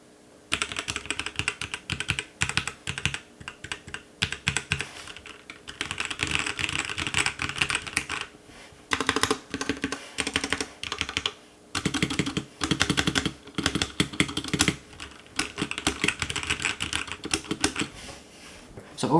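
Continuous clacky typing on an Npet K61, a cheap 60% mechanical keyboard, with rapid irregular keystrokes close up and brief pauses between bursts.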